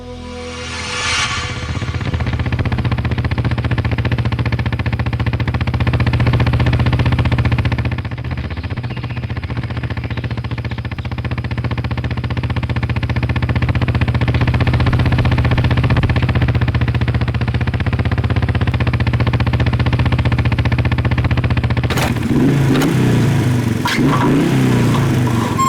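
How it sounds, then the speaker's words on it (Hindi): A faulty motorbike engine runs with a steady low droning hum and an uneven rough undertone, holding for a long stretch before a burst of clattering noise near the end. "बाइक खराब है"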